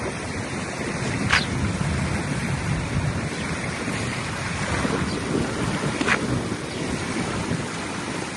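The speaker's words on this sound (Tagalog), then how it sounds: "Sarap na hangin dito." Strong wind sweeps across a beach, rushing and buffeting the microphone in a steady roar with surf mixed in, loud and continuous throughout with no talk.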